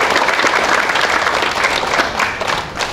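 Steady, dense applause from a seated crowd at a memorial ceremony in a national memorial hall, filling the space evenly with no voices over it and easing slightly toward the end.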